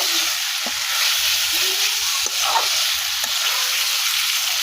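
Shing fish sautéed in a pan makes a loud, steady close-up sizzle. Intermittent scraping and stirring knocks run through it, with no talk.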